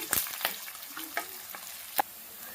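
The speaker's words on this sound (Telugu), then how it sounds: "మొత్తము గోల్డెన్ ఫ్రై కలర్ వచ్చే వరకు ఫ్రై చేద్దాము" Onions, garlic and curry leaves fry in a pan with soft sizzling under sharp, intermittent clinks and scrapes of a spoon stirring, fairly quiet and close.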